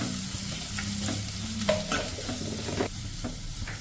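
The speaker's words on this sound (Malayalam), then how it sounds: "നന്നായിട്ട് മിക്സ് ചെയ്ത് കൊടുക്കുക" A spoon stirs pepper, chilli powder and salt through sizzling food in a pan over lowered heat, with a steady frying hiss and a few scraping knocks, close and without talk.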